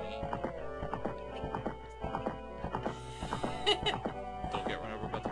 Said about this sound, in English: Don't get run over by the horse.